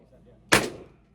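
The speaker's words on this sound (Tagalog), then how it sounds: "Firing!" A single sharp gunshot cracks out at an indoor firing range, loud and close, with a short reverberant decay off the walls and no talk over it.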